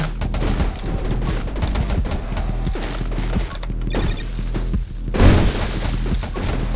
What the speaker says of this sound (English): Especially now that these explosions are starting to occur.